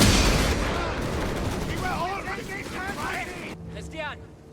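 Dense gunfire rolls through a Company of Heroes 3 battle, with rattling machine guns and blasts blending into a loud, continuous wash of combat noise. Voices cut through in places, and the din thins briefly near the end.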